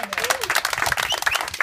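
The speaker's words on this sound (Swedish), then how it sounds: "Applåder." Applause from a crowd at a children's summer cup award ceremony, a dense, steady patter of many hands lasting under two seconds with voices mixed in.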